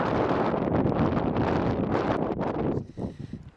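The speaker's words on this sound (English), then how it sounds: "It's getting quite windy now" Wind blows hard outdoors in steady broadband gusts, loud and close on the microphone, then drops away near the end, leaving brief softer buffets.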